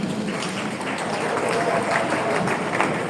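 Audience applause for the Inspector General of Police at a stakeholders meeting on the Edo State governorship election, a steady dense patter of clapping from a crowded hall, with some talk mixed in.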